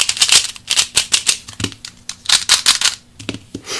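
A speed cube being turned quickly in the hands, giving a dense run of sharp, snappy clicks in fast bursts with brief pauses, close and fairly loud with no talking.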